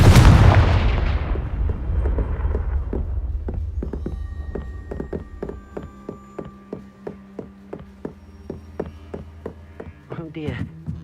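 A Confringo explosion spell in Hogwarts Legacy opens with a loud blast that decays, followed by a steady series of sharp, evenly spaced impacts and taps, with talk faintly underneath.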